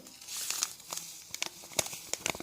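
A paper packet of vanilla sugar is torn open and crinkled in a kitchen while cottage cheese is mixed with egg, giving close, dry rustling and crackling in irregular bursts.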